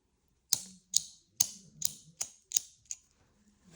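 A Grimsmo Grail EDC pen clicks seven times at an even pace, each one a crisp, sharp metallic snap up close against near silence.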